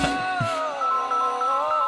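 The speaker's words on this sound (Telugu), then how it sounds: "ఫోన్ కూడా రింగ్ అయింది" A phone rings with a melodic electronic ringtone, its warbling tune running on for about two seconds and standing clearly on its own with no talking.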